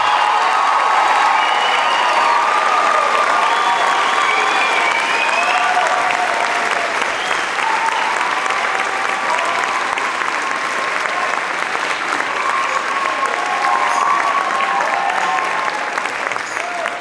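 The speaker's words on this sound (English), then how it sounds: "how about a round of applause for all three of our conductors?" A concert crowd at a high school band's England send-off concert applauds its three conductors, a loud, dense, unbroken wash of clapping with scattered cheers and whoops running steadily throughout.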